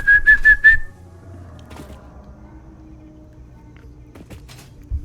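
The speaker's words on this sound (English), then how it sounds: "it's a pretty weak whistle" A person whistles outdoors to call a dog, giving a few short, thin whistle notes in quick succession at the start, followed by quiet ambient noise and faint footsteps.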